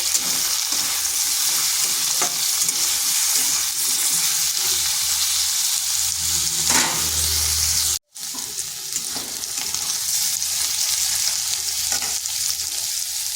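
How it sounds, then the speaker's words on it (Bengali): Pointed gourd (potol) pieces fry in oil in a pan, making a continuous close sizzle with occasional stirring clatter and a brief break midway before the frying noise resumes. "প্রথমে পটলগুলোকে একটু ভেজে নেব।"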